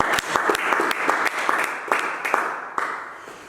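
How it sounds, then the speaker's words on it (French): A church congregation bursts into sustained applause, dense clapping with sharp individual claps standing out, filling the space at steady loudness. "Acclame, je vais acclamer ça."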